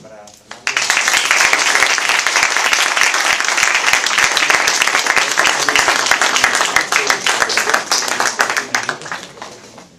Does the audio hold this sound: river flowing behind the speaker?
no